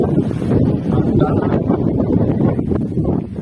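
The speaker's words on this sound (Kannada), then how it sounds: "ಈಗ ಗಾಳಿ ಭಾಳ ಇರ್ತೈತಿ, ಗಾಳಿ ಸಮಸ್ಯೆ." Strong wind gusts across a moringa (drumstick) farm during pruning, a loud continuous rumbling buffet against the microphone with rustling, rising and falling throughout.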